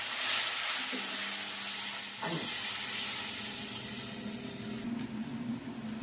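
Spice paste for a kalbaus fish dish fries with a splash of water, giving a steady close sizzle and hiss with a faint spatula scrape and a low hum underneath, with no one talking.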